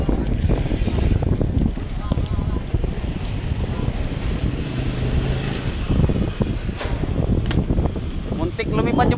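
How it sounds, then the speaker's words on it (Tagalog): Strong outdoor wind buffets and roars continuously against the microphone, with rumbling gusts throughout and a voice partly audible beneath the noise. "napakalakas ng hangin guys"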